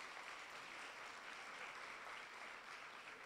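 Audience at a university psychology convention applauding, a faint, dense, steady wash of clapping from many hands sustained throughout.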